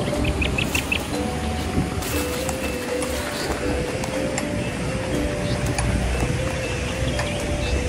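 Birds call back and forth around a lush hillside farming village on the slopes of Mount Lawu, with repeated short chirps and a rooster-like cluck rising over a busy, noisy outdoor background.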